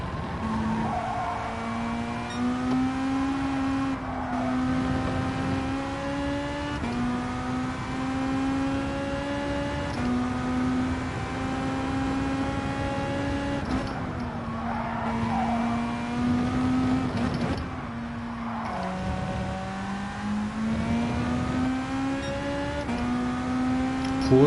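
A Porsche race car in Gran Turismo 7 holds a loud, continuous engine drone that rises and falls through gear changes and revs for the whole stretch, with brief dips where it shifts down.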